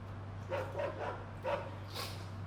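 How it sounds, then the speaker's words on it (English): A dog barks in a few short bursts, moderately near, over a steady low hum with no talking. "There is a dog."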